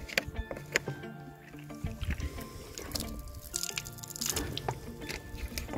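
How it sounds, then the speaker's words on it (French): A wet cloth rubs over a car headlight during cleaning, giving soft, irregular squeaks and wiping strokes close by, with small drips and handling noises between them. "j'ai mouillé le chiffon et on frotte"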